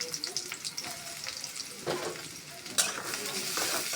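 Chopped onions sizzle and fry in a pan for mutton bhuna, a steady hiss with scattered stirring scrapes and a couple of sharper clatters, with faint background voice.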